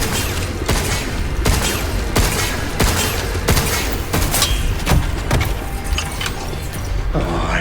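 Rapid gunfire from the video game Pragmata, a dense run of sharp repeated shots and thuds over a busy game soundtrack, loud and continuous with no talking.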